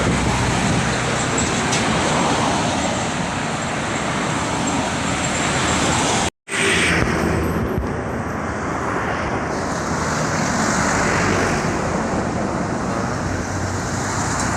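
A Hino intercity bus on a Sumatran highway roars by at speed, a loud broadband road and engine rush filling the scene, cut by a brief dropout midway and then continuing.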